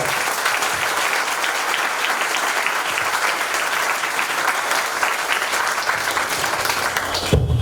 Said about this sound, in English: Can I have a round of applause for just this?